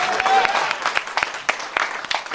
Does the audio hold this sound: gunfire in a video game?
no